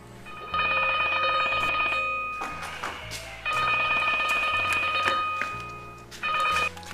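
A telephone rings in repeated loud electronic bursts with short gaps between them, close and clear with no talking over it.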